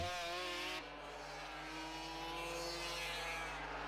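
Racing motorcycles, a Honda and a Yamaha, roar past on a circuit, a loud engine whine dropping sharply in pitch as they go by, then sustained engine drone continues from the pack.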